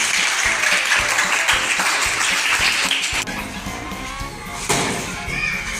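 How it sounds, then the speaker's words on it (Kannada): Classroom children clap together during a math addition lesson, a loud burst of rapid clapping that thins and settles partway through, with some knocks and scattered claps near the end. "ಚಪ್ಪಾಳೆ ತಗೊಳ್ಳಿ."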